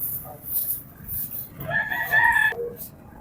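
A rooster crows once at a busy open-air market in the Philippines, a short, fairly close call rising over faint background chatter.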